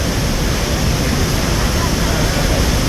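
Murchison Falls waterfall roaring with drifting spray, a dense, steady, loud wash of rushing water that fills the whole moment without letup.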